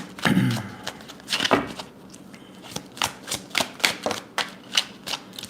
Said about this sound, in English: Sorry for the loud shuffling.